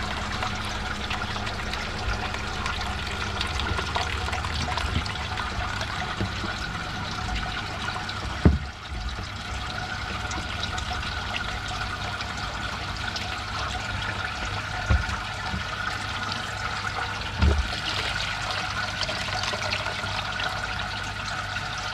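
Water trickles and flows steadily through a Jebao CW-36 36-watt UV clarifier on a marine saltwater reef aquarium, a constant close hiss with a few faint knocks and no speech.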